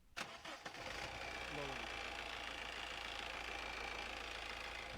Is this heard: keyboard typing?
no